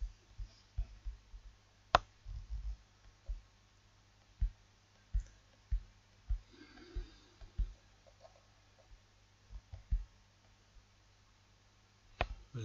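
A computer mouse clicks on a Windows PC, sharp, quiet single clicks spaced irregularly over a faint, steady background hum.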